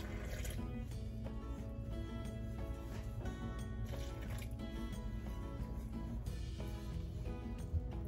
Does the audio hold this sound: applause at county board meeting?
no